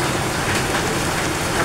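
Heavy rain pours steadily at a house during the rainy season, a dense, even hiss of downpour that stays loud and unbroken with no voices over it.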